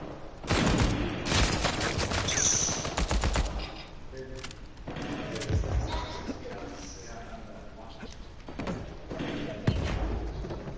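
Gunfire in the Uncharted 4 game rings out in loud bursts and single shots against a sniper, with a voice talking over parts of the fighting.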